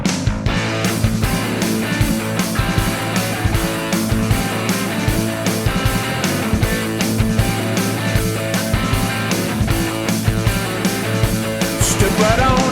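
A song plays loudly and steadily, with full band instrumentation and a regular beat throughout, and no talking over it.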